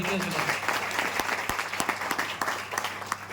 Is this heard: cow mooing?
no